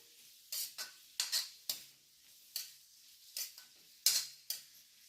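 Onions with mint and coriander are stirred in a pan, giving sparse, separate scrapes and taps of a spoon against metal, about ten light strokes over a quiet background with no voices.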